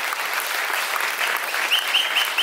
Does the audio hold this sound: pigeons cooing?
no